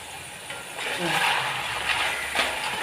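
Jackfruit pieces frying in coconut oil for Vishu jackfruit chips, giving a steady, fairly loud broadband sizzle and hiss with occasional stirring clatter; no one talks.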